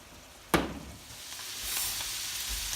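Rice with onions and peppers in a pan, starting with one sharp clatter of stirring and then settling into a steady, gradually rising sizzle that carries on to the end with no talking.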